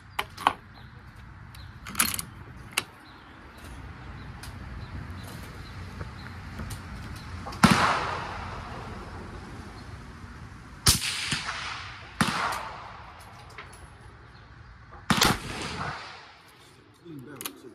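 A 30-06 rifle loaded with Gold Dot rounds fires outdoors: about seven sharp, loud shots at irregular intervals, each leaving a brief echoing tail, with speech in the gaps between them.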